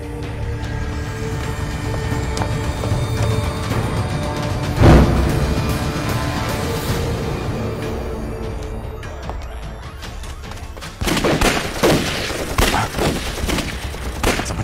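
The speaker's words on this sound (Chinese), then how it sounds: "这么密集的枪声" Dense gunfire from a firing squad executing captured villagers at a village entrance, a continuous rattling barrage of overlapping shots with a heavy thump partway through and sharper distinct cracks toward the end.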